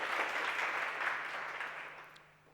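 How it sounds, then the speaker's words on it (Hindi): An audience gives a burst of hissing applause at a gathering on Sanskrit education, fading steadily over about two seconds. "तो इस बात के लिए जोरदार तालियां जो होनी चाहिए।"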